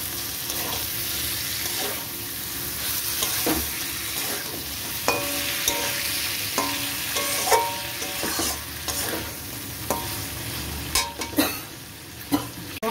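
Boal fish pieces added to spice masala and fried in a pan, a loud close sizzle with repeated scraping and clinking stirring strokes that grow busier toward the end.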